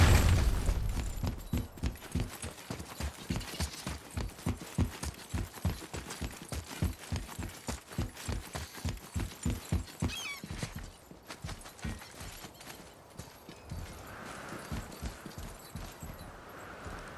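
Horse hooves clatter in the God of War video game, a steady, loud galloping rhythm of closely spaced beats that runs for several seconds before thinning out into quieter movement and ambient sound, with no talking.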